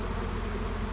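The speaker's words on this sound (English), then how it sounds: "the bees are just finding us" Honeybees buzz steadily around open, uncovered hive boxes in a bee yard, a dense, even drone with no voices.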